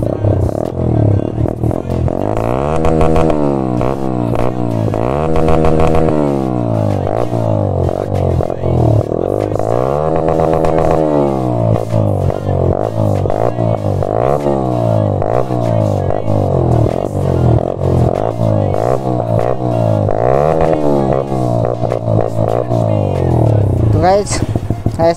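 An NS125 motorcycle with a loud, deep Austin Racing full-system exhaust revs repeatedly up and down, close and rumbling, throttle blips rising and falling for the whole stretch.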